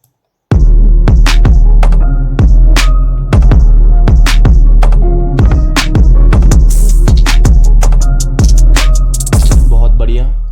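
A hip-hop beat made in FL Studio pounds along with a heavy rolling 808 bass and kick under bright percussive hits and melodic layers, loud and dense from start to finish.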